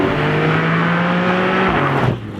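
Porsche 718 Cayman GT4 with PDK gearbox heard from inside while driving, a loud steady engine drone with road roar that dips as the revs shift near the end.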